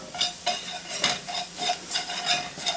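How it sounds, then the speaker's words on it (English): A whisk works a flour mixture in a pan for a tuna casserole, making about five rhythmic scraping strokes, close and clear, with no talking. "I'm going to swap over to a whisk for now."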